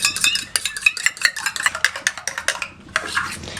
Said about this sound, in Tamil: இதை நல்லா கலக்கிக்கலாம்.